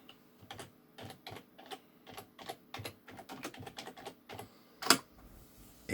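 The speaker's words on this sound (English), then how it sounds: "Really bad typing as usual." Fast, irregular typing on a computer keyboard, with bursts of clicking keys and one sharper tap near the end.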